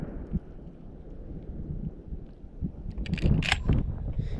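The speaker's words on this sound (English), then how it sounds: "Now we've got some wind picking up" Wind rises at an outdoor shooting range, producing a low, rumbling buffet against the microphone that grows stronger near the end, joined by brief handling clicks and no speech.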